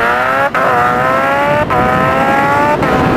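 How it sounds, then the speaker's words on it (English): A supercharged 1000cc Kawasaki Ninja H2 motorcycle launches hard in first gear, its engine screaming up through rising revs, loud and close, broken by three brief quick dips as the auto blipper shifts. "Taking off in first gear."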